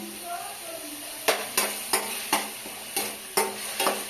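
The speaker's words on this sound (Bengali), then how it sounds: "আবারও ভালোভাবে কষিয়ে নেব।" Onion paste and ginger-garlic paste fry in a pan, a constant sizzle broken by a regular series of sharp spatula scrapes and knocks against the pan, close and fairly loud.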